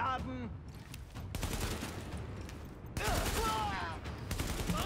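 Dense volleys of gunfire from Tom Clancy's The Division ring out almost without pause, with a sharper, louder burst from about the three-second mark onward.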